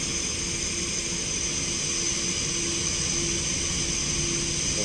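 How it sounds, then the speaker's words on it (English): Steady, loud jet engine roar of a Xian Y-20 cargo transport spooling for takeoff in Roblox Aeronautica, a constant broadband rumble with a sustained tonal whine and no voices. "let's enjoy the cinematic takeoff"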